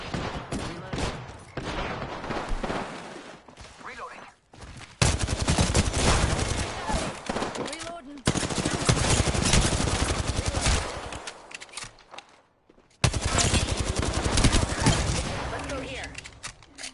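Bursts of automatic gunfire crackle in a shooter video game, loud rapid volleys broken by brief silences, with a voice speaking over parts of the firing.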